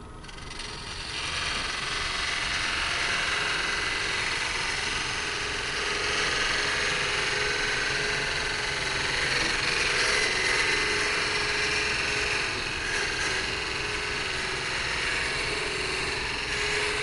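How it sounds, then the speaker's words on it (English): A fluted Sorby parting tool cuts into spinning wood on a lathe while turning a bottle stopper, making a loud, continuous rough scraping hiss over the steady hum of the machine, with no voices. "Now this is a parting tool, a sorby parting tool. It's fluted."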